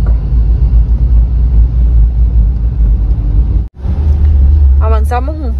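Steady road rumble and engine drone from inside a moving car in traffic, loud and continuous, with a brief dropout midway and a voice speaking over the noise near the end.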